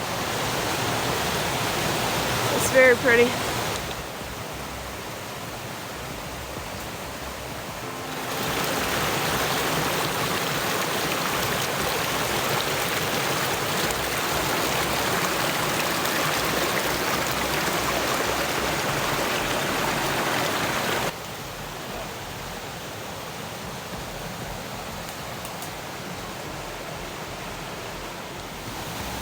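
Water rushes down a small seasonal waterfall and stream on an off-grid property in mountain laurel woods. The steady roar is close and constant, its loudness shifting as the listener moves, and a voice speaks briefly near the start.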